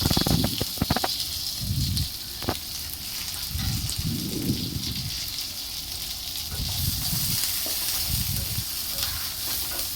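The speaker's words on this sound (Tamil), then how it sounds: "நம்ம இதில் வெங்காயம், அப்புறம் கருவேப்பிலை இது சேர்த்து நல்லா வதக்கிட்டோம்" Onions and curry leaves sautéing in oil in an iron pan, a steady hissing sizzle with occasional stirring scrapes and a low muffled voice-like murmur in places.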